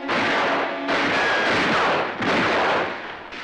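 Gunfire in a Disney western TV episode, two or three loud booming bursts with long noisy decays following one another, no talking.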